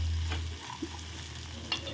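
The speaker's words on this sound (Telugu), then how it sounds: "ఒకసారి కలుపుకుందామండి." Spiny gourd (boda kakarakaya) frying in a pan, a steady sizzle with a few soft scrapes of stirring, close and without speech.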